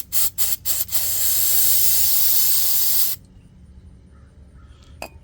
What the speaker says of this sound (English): I'm going to spray this with starting fluid to clean off these oil deposits.